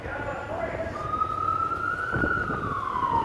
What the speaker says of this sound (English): police car going through your motorcade.